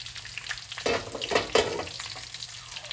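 Pork trotters fry in splattering oil with a steady, close sizzle that swells into louder crackling bursts in the middle before settling back.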